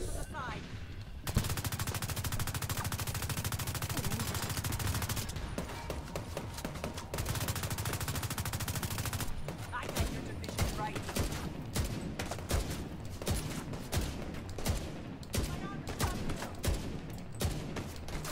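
Full-auto Bighorn rifle fire in The Division 2, loud sustained bursts with dense rapid shots, a brief pause, another long burst, then choppier scattered gunfire and impacts through the rest.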